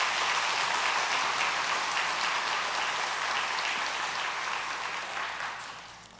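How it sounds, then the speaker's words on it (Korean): Church congregation at a Sunday afternoon service applauds in thanks to a visiting pastor, a dense, even wash of clapping from many hands that fades out at the end. "우리 다시 한번 박수로 감사의 마음을 표하겠습니다."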